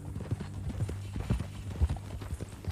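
Horse hooves clip-clopping in Red Dead Redemption 2, a steady rhythmic walking gait, moderately quiet over low ambient background.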